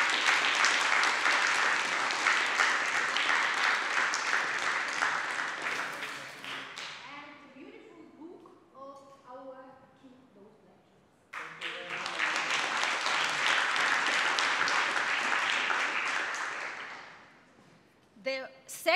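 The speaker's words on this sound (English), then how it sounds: "Your applause." At a PhD contest award ceremony, a hall audience gives a loud burst of applause that fades into brief talk, then a second strong round of clapping that dies away.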